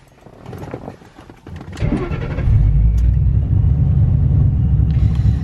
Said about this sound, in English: you want to go ahead and just start up your car